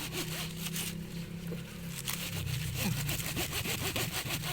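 Quiet rasping cuts through a hard-skinned sugarcane stalk in a field, with a rough scraping texture that grows denser toward the end and no talking.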